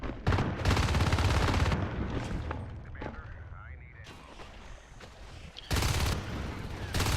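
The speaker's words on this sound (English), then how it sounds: "They are wasting a lot of ammo." Bursts of rapid automatic gunfire from the Natural Selection 2 video game rattle loudly in long sustained volleys, fading briefly in the middle before another burst, with commentators talking over the action.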